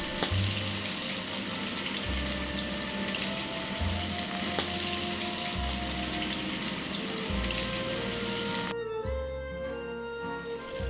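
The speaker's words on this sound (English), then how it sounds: "Now we will shallow fry our prawn." Tiger prawns shallow frying in hot oil in a pan, coastal style: a steady, loud, broadband sizzle runs throughout with no talk, thinning and changing texture near the end.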